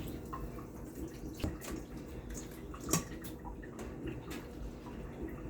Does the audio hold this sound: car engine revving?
no